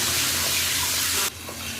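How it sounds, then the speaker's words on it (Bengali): Fish fat fries in hot oil for a curry of rohu fish head and mixed vegetables, a dense steady sizzle that drops sharply to a quieter crackle near the end. "মাছের তেলটা তেলের মধ্যে দিয়ে ভালো করে ভেজে নিয়েছি"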